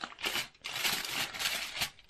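Aluminium foil being folded and crinkled by hand while preparing a fish recipe, giving close, bright crackling bursts with a short pause near the start.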